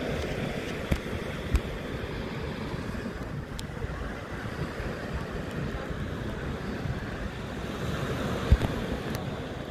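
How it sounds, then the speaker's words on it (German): Steady rushing wind on a beach at Playa de Palma fills the whole stretch, a broad low roar with occasional gusty buffets against the microphone and a faint wash like surf behind it. "Der Wind ist übrigens jetzt auch etwas stärker geworden."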